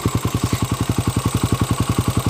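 Honda TMX125 motorcycle with a 200cc conversion running steadily, a loud, close single-cylinder engine thumping in an even, rapid rhythm with clattery mechanical noise on top.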